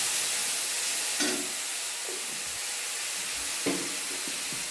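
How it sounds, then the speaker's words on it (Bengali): A spice paste of cumin, turmeric and coriander sizzling in hot oil, a continuous frying hiss with a few louder spatters and bursts, close and with no talk. "এই মশলাটা তেলের মধ্যে দিয়ে দেবো"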